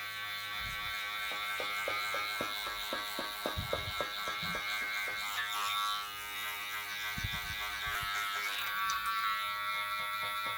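Electric hair clippers buzz steadily at close range while tapering the neckline on a short buzz cut, with a series of soft bumps and taps as the blade moves against the neck.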